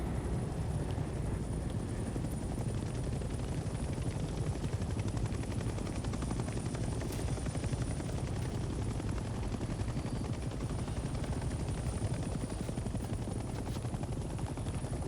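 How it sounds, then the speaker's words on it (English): Helicopter rotor chop and engine drone from the video game Hell Let Loose: Vietnam, a steady, loud wash of noise running the whole time with faint gunfire mixed in and no talking. "Get in the chopper."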